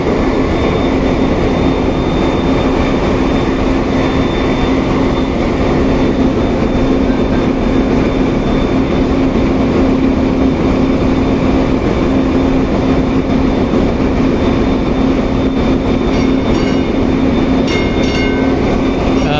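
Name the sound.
ship engine room noise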